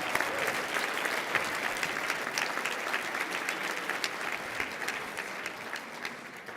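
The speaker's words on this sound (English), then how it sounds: "Let's give them a big round of applause." A gala audience for a school district event applauds steadily throughout, dense, even clapping holding at a moderate level with no voices standing out.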